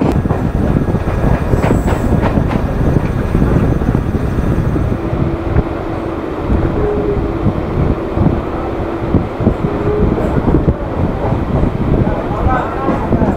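A local train on the Howrah to Digha line, running from Santragachi to Mecheda, rumbles loudly and steadily with wheel clatter, rattling carriages and wind buffeting, plus a brief tonal squeal midway.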